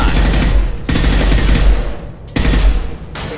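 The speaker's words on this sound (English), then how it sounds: "Firing a high-impact shot." High-impact gunshots in the Mass Effect 2 video game, loud heavy bursts of rapid fire in three long runs separated by brief gaps, close and booming.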